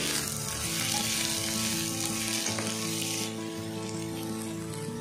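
Chopped ridge gourd fries in oil in a pan, giving a loud, steady sizzle that runs unbroken throughout, with faint stirring scrapes underneath.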